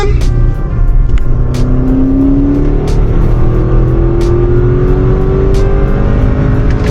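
Loud engine roar of an Audi RS Q8 SUV accelerating hard, pitch climbing steadily as it pulls through the revs, heard from inside.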